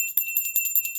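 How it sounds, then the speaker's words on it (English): A small bell is rung several times on a talk show. Bright metallic strikes fall in a quick, fairly even rhythm and leave a high ringing tone sustained between them, close and clear, with no talking. "we're gonna ring the bell anyway."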